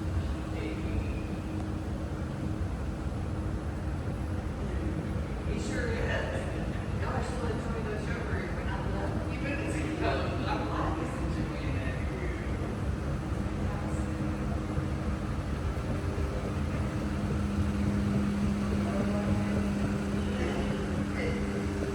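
A TKE Velino escalator at a test tower runs with a steady, continuous mechanical drone, heard nearby while a person talks over it.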